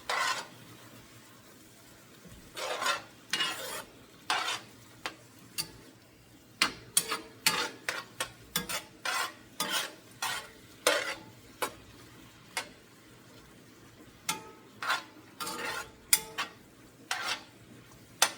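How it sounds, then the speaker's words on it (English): Beef tips in a red wine reduction are stirred in a pot, with a series of sharp, irregular scrapes and clinks of the utensil against the pot over a quiet simmer. "Give this a stir."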